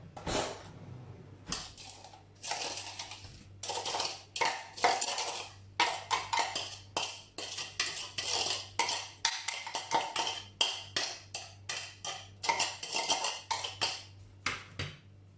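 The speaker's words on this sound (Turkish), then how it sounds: "Şimdi bunu hemen şöyle küçük bir tavanın içine aktaracağım." Blended raspberry puree for a raspberry cake being scraped from a container into a small pan, a long run of close metallic clinks and scrapes of a spoon against the cookware, with no talking.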